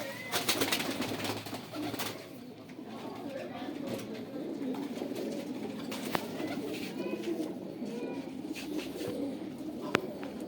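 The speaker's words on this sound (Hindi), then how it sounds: "9 साल का कबूतर है।" Pigeons of Firozpuri and Banka types coo softly and repeatedly over a busy, steady background, with faint voices and occasional clicks nearby.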